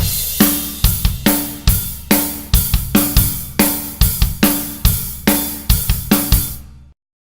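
Drum kit groove driven by hi-hat, bass and snare, alternating bars of 4/4 and 7/8 at a moderate tempo, with steady crisp hits played alone for about seven seconds.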